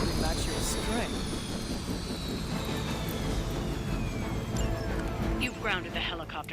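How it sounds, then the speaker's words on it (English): A video game helicopter brought down on the ground in a combat mission, a loud continuous engine and rotor roar with descending whine, jet-like noise filling the scene, mixed with game effects and a voice speaking. "You've grounded the helicopter."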